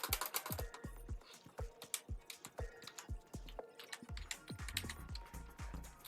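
Fast typing on an old, cheap computer keyboard: dense, close clicks and clacks in quick irregular bursts, with a short pause partway through.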